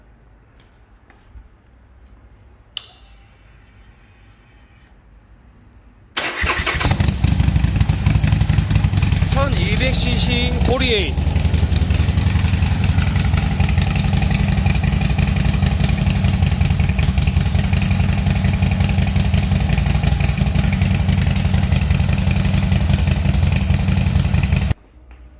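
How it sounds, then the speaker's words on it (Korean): A 2011 Harley-Davidson Forty-Eight Sportster fitted with a Screaming Eagle muffler starts up and idles with a deep, steady, fairly loud rumble for about twenty seconds, after brief quiet handling noises at the start. "스크리밍 이글 머플러 배기음 한번 들려드리도록 하겠습니다"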